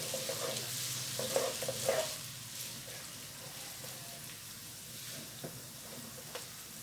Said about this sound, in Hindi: कढ़ाई में ऑयल अच्छे से गर्म हो गया है और अब हम इसमें डालेंगे बारीक कटी हुई प्याज।